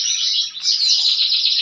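Dense, high-pitched chirping and twittering from many small pet birds, continuous and fairly loud, with no pauses.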